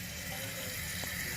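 Water rushes steadily into a toilet tank through a Fluidmaster 400A fill valve, making a constant hissing, splashing flow at even loudness throughout the short stretch, close by with no talking.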